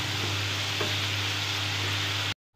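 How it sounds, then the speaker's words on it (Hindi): Spice masala with turmeric frying in hot oil for a mushroom curry, a steady close hiss and crackle with a few light stirring scrapes, cutting off abruptly near the end. "इसको अच्छी तरह भून लेंगे ताकि मसाले की और हल्दी की जो कच्ची महक है वो निकल जाए।"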